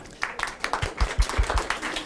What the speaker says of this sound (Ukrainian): ще раз оплески